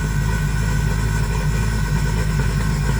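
A pulse gas furnace runs just after ignition, with a recently serviced diaphragm and intake and exhaust silencers fitted, giving a steady, loud, low throbbing hum with no talk.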